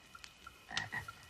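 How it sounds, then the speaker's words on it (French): Frog croaking close by in a quiet outdoor setting, a few rough low calls clustered together over soft background noise, with faint high chirps dotted around. "Un wawa quoi? Une grenouille."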